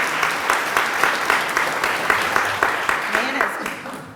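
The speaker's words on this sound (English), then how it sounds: "Let's give her a round of applause as she comes forward." A full-house audience at a business chamber event applauds steadily and loudly as a woman comes forward, the clapping sustained throughout and gradually tapering toward the end.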